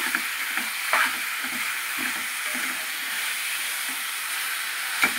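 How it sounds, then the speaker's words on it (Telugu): Chicken curry sizzles steadily in a hot pan while a spoon stirs and scrapes through it, giving soft repeated scraping strokes over a continuous frying hiss, with a few sharper clinks against the pan. The sound is close, with no speech. "కలుపుకుంటూ బాగా కలుపుకోవాలండి"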